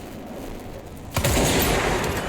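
A gun fires in the video game Control: a loud burst of gunfire cuts in sharply over a quiet room-like background and keeps rumbling and ringing for about a second afterward, with no voices.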